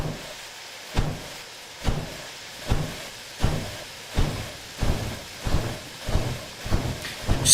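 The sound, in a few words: steam locomotive chuffing and hissing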